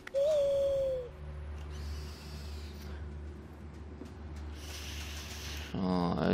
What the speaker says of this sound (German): Drücke, um die Eule zu rufen.